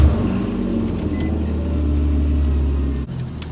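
A 2016/17 Nissan Maxima engine rumbles steadily at idle close by, a low constant drone with no voices, cutting off abruptly near the end.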